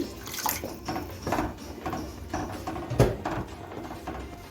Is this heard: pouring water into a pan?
yes